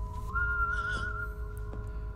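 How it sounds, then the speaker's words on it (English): A man whistles a sustained, wavering tune in a scene from the TV series Ashes to Ashes, clear and fairly close over a low background rumble. "Fucking Jim and his whistling, god damn it."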